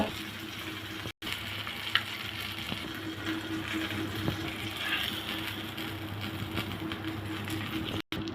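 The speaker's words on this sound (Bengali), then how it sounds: "ভালো করে মাছটা ভেজে নিব" Rohu fish frying in hot oil gives a steady, even sizzle that continues without a break for several seconds, close by and fairly quiet.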